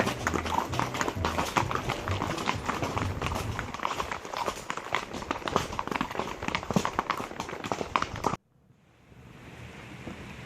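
Horse hooves clopping steadily on a riverside trail ride in Missouri, with rushing water and splashing throughout, ending abruptly into a quieter outdoor hush.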